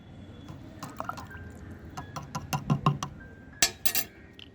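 Neem oil being stirred into a litre of water, with small clinks, drips and splashes of liquid against a container coming in scattered bursts, fairly close and quiet.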